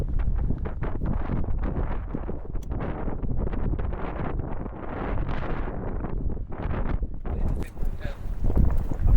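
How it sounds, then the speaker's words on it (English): Strong gusting wind outdoors in Iceland buffeting the microphone, a loud roaring rumble that swells and dips continuously with no pause. "Super windy today"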